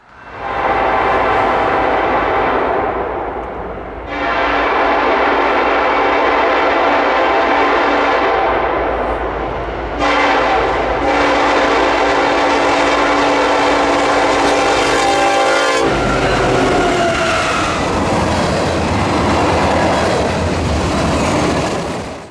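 CPKC freight locomotive 4165 races past on the Beaumont Sub, a loud roaring pass-by with horn blasts, followed by the rumbling clatter of freight cars rolling close by.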